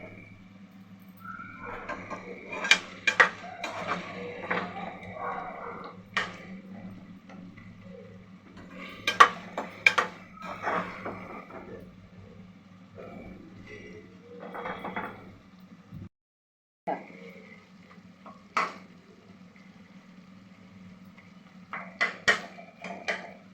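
Brinjal curry stirred in a pan, with repeated spoon scrapes and clinks against the metal in short bursts, close and moderately loud, pausing and resuming.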